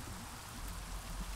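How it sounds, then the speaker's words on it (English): Steady rainfall in a modded Minecraft world, a soft continuous hiss of drops with low rumbling texture, fairly quiet and constant throughout with no voices. "now it's raining"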